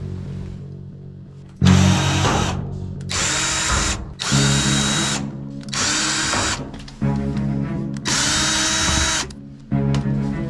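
A power drill runs in several bursts while backing out bulkhead screws on a clothes dryer, each whine lasting a second or so with brief pauses between, close and loud over a low hum.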